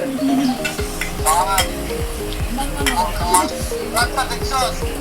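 Food sizzling and frying in a pan as a man cooks at home, with repeated scraping stirs of a utensil against the pan, close and fairly loud, while voices talk over it.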